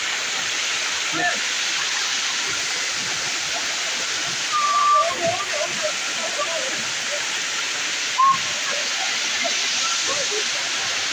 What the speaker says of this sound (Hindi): सुने झर झर झर पानी गिरते हैं